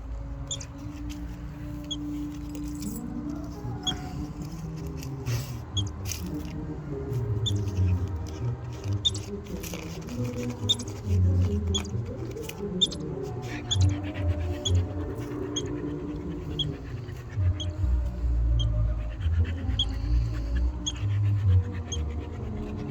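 Faint scratching and scrabbling from a squirrel somewhere under a concrete slab comes through in soft irregular bursts during an evening outdoors, with a dog nearby panting and sniffing against low background noise.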